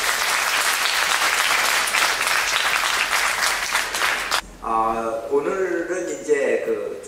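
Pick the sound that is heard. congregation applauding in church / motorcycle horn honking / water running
congregation applauding in church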